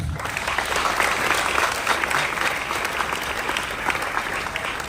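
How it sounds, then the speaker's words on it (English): Students and staff at a school morning assembly give a burst of loud, full applause that fills the space evenly for about five seconds. "please clap once"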